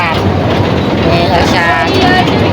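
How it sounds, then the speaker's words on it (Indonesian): Sugarcane lorry train running at the Madukismo sugar factory, a loud, steady rumble with rail clatter filling the whole stretch, close by. "Sambil lihat-lihat kereta lori bawa tebu"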